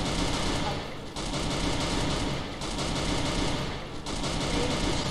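Machine gun fire in an online ranked shooter match: dense, rapid bursts of automatic shots over about five seconds with brief dips between them, loud and close.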